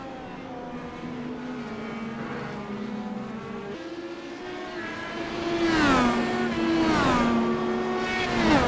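Race cars run a road course in a stock-car style event, several engines droning with rising and falling harmonics as cars pass and accelerate, growing louder toward the end with no talk.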